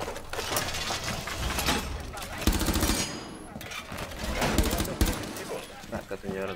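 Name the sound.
gunfire in the video game Rainbow Six Siege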